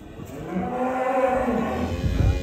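A huge European-breed beef bull in an Indonesian cattle pen lets out one long, deep, loud moo that carries through the whole moment, close and clear with no talk.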